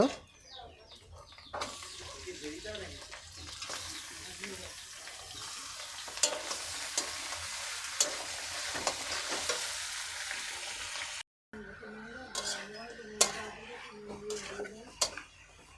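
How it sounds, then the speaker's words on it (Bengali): Country chicken meat being stirred and sautéed in a pan, with spatula scrapes and metal clinks over a continuous frying hiss, a short gap, then more scraping; faint speech at times. "ভালো করে নেড়ে নেড়ে কষে নেবো ভালো করে"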